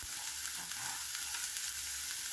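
Garlic and onion frying side by side in a pan for ginisang pechay, a steady, close, bright sizzle without pause and with no voices.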